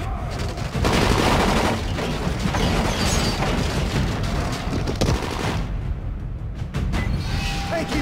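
Rapid gunshots from the zombie-survival game Dying Light during an arena fight, a loud, dense volley running almost without pause, with a brief lull near the end.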